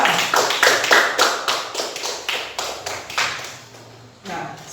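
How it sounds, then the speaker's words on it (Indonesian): Hands clapping for a student group in a classroom lesson: a run of loud, close, fairly evenly paced claps in a rough rhythm that fades toward the end, followed by one last clap. "Jadi tepuk tangan buat kelompok dan singkong dulu"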